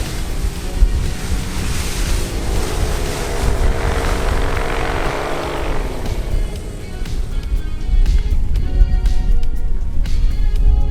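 Strong wind roars steadily across a microphone at a beach paramotor flying site, with surf and a passing propeller drone blending into the gusty, continuous rush.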